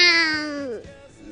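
A young girl imitates an angry cat with a loud, drawn-out snarling meow that falls in pitch, held close for about a second before tailing off.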